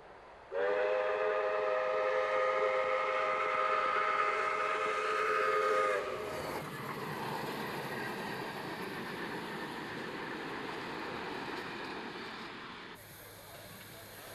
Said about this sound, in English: the train is passing under Brunel Street Bridge